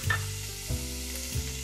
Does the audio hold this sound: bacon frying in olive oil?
yes